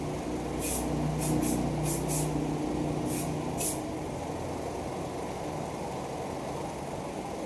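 An aerosol spray can fired in several short hissing bursts at rat holes in a home, close and fairly loud, over a steady low rumble of background noise with no speech.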